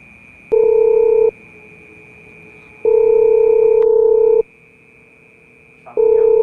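A telephone call's ringback-style tone repeats in long, loud, steady beeps with pauses between them, over a faint continuous high hum.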